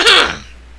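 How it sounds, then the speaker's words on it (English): A video game character in Paper Mario: The Thousand-Year Door gives one short, loud, close throat-clearing rasp that fades quickly into quiet. "Sorry, I'm clearing my throat."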